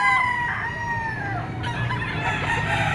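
A bull stag rooster crows close by and loudly, a drawn-out cock-a-doodle-doo with a second call breaking in partway through, over a steady low murmur of background noise at a busy poultry market.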